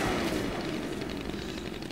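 Assault rifle fire in the zombie action game Dead Rising 2, Overtime Mode: a dense, steady roar of shots, loud and continuous throughout with no voice over it.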